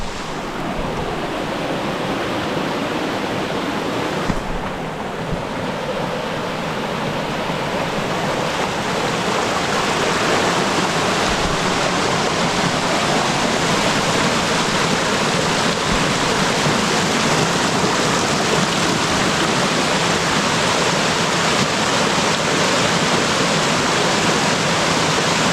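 Kawakawa Falls in Oriental Mindoro roars steadily, a dense, loud rush of falling water that continues unbroken throughout.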